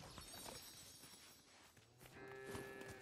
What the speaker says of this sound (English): I'm gonna pet this cow.